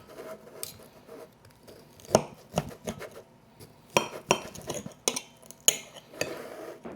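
A knife and fork cut into a sous vide pork chop on a plate, sharp clinks and scrapes of cutlery on the dish coming in irregular bursts, close and fairly loud.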